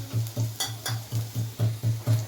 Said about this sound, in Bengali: কাঁচা লঙ্কাগুলো আর আলুগুলো একসঙ্গে ভাজা চলছে।